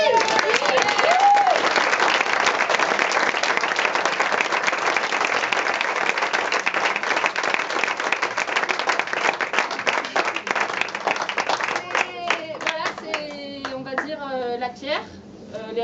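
A room of people applauds a squash club member at a tournament prize-giving, with sustained, fairly loud clapping that thins out toward the end as a voice starts speaking over it.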